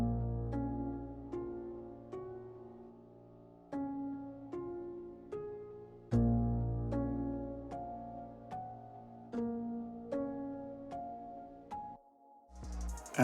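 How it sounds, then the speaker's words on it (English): A soft, dry piano plays a slow, intimate phrase of separate notes and low chords, each struck and left to decay, close and unadorned, ending in a brief noisy tail. "Very dry, very soft and intimate sounding piano."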